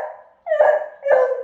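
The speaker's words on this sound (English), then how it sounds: "Hey, stop barking." A dog barks close by, a few quick yelping barks in a short burst, clear and alone.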